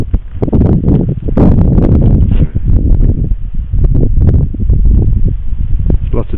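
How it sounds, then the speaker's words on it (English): Wind gusts by a metro bridge at night, with fog, buffet the microphone in a loud, continuous rumble with rustling surges, while a person talks over the noise. "It's a bit more windy down here though."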